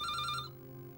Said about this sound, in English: I can tell that's for me by the tone of the ring.